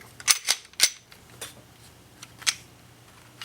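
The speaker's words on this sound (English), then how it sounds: "you have to lock your slide back." An M&P pistol's slide is worked and locked back, producing a cluster of sharp, close metallic clicks and snaps followed by a lighter click a moment later over a quiet background.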